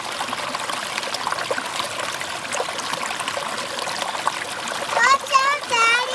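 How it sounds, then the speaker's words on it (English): Water trickles and splashes softly and continuously nearby while panning for gold, with a voice rising briefly over it near the end. "You stepped in my water flow."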